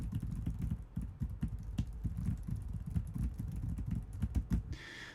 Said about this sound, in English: So there's me typing.